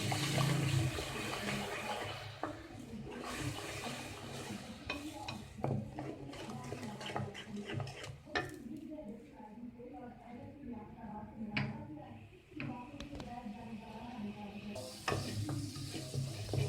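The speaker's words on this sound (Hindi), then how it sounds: "इसका हम मसाला भूनेंगे" Masala with turmeric, salt and chili fries in a pan for whole masoor dal, with a steady close sizzle broken by scraping stirs and clinks of the spoon, while a person talks over it at times.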